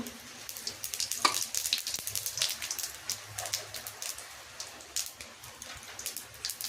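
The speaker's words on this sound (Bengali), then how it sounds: "একটু জিরে ফোড়ন দিচ্ছি।" Cumin seeds crackle and spit in hot oil during tempering, a close, steady sizzle broken by sharp popping bursts with no voices.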